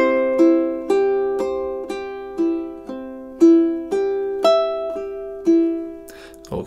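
A ukulele plays measures 17 and 18 of Ave Maria as a steady run of eighth notes, each plucked note ringing clearly and fading before the next. It is close and solo, with no voice over it.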